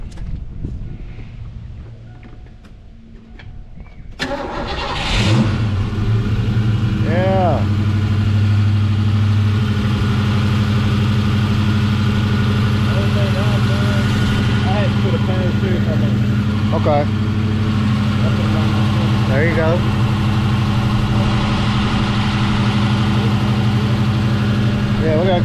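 A car with a Flowmaster 40 series exhaust cranks over and fires up about four seconds in, then settles into a loud, steady, deep idle that runs to the end while people talk nearby.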